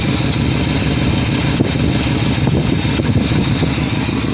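A 1959 Edsel engine runs steadily after an alternator upgrade, a loud, even idle rumble close by without talk.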